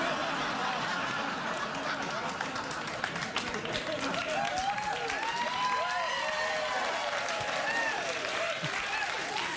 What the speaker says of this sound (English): we've got a very applaudy crowd in